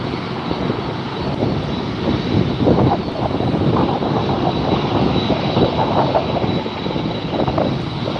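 A fixed-wing airliner taxis at Los Angeles International Airport (LAX), its jet engines producing a loud, continuous broadband roar that holds steady throughout.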